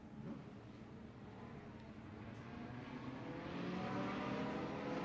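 Sport compact race car engines at Crawford County Speedway rev and rumble from a distance, a broad hum that swells steadily louder toward the end.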